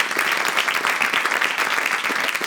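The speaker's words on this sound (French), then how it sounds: "Ça, c'est un applaudissement de gens qui travaillent pas" A studio audience applauding on a French talk show, dense and even clapping that stays loud and steady throughout, with no speech over it.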